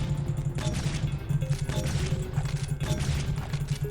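Grenade explosions and gunfire in the shooter game Mind Control: Bloody Renaissance, a dense, continuous run of loud bursts and blasts over a steady low hum.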